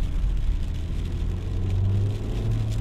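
A 2018 Suzuki Ignis with a 1.2-litre engine and manual gearbox pulls ahead on an Indonesian road, its engine droning and rising steadily under road and cabin noise, with no talk.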